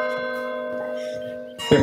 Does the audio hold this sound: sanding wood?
no